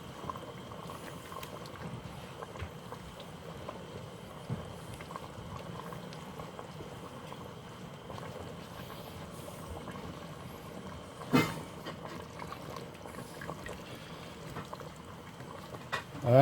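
Rice cooking in a pot on high heat, bubbling gently in a soft steady simmer with faint pops and a brief clatter, no voices.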